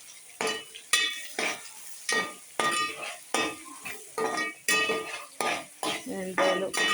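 Dried shrimp frying with onions in a pan, with a run of distinct stirring scrapes and clinks about once a second over a light sizzle, close and fairly clear.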